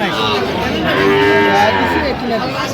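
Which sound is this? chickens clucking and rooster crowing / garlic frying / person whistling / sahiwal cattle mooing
sahiwal cattle mooing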